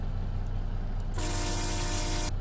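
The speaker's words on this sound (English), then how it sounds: "It's a train air horn." A train-style air horn on a Peterbilt 357 heavy-haul truck in American Truck Simulator blasts once in a single sustained chord lasting over a second, loud and steady over a low engine idle, then cuts off abruptly.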